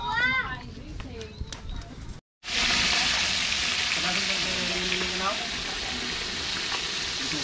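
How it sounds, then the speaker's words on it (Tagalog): Loud, steady frying sizzle of fish in a pan fills the scene after a brief cutout, a dense hiss continuing throughout with faint voices and clatter underneath. "Tapos prito na natin."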